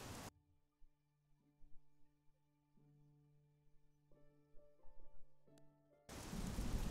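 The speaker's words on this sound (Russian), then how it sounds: "Здесь теперь-то дождик кончится" Rain hisses in the fantasy video game Oblivion, heard briefly at the start and then loud again near the end. In between, a quiet sustained musical passage plays.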